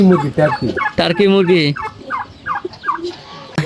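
A fowl calling close by, a loud burst of rapid warbling gobbles followed by a series of softer repeated clucks.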